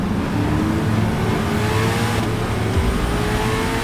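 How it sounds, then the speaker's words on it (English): A Corvette accelerates on a race track lap, its engine roaring loud and close with rising pitch as it pulls through the gears. "The way this car accelerates is like being shot out of a cannon."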